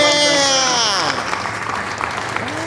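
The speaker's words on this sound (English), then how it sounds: "let's just stop for a minute and give AJ a standing ovation" Standing ovation for AJ at a Homeless Children's Education Fund gathering: steady, loud clapping from a crowd, with whoops and cheers rising over it.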